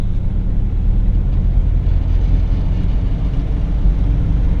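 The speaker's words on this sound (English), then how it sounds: "That was a nice first ride of the season in the Bel Air" A 1959 Chevrolet Bel Air with an old unsynchronized-first gearbox out on its first drive of the season, giving a loud, steady, low engine and road rumble throughout with no voices.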